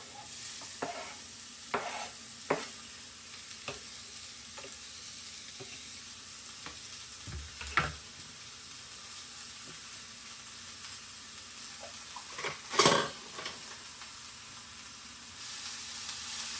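Onion sauteing in a very hot pan without butter, giving a quiet steady sizzle broken by scattered clinks and scrapes of stirring, with a louder scrape near the end.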